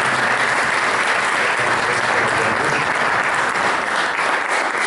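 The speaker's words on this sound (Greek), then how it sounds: "Είναι χειροκρότημα για τις" An audience at a hall presentation breaks into dense, sustained applause, many hands clapping loudly and evenly throughout, with no one speaking.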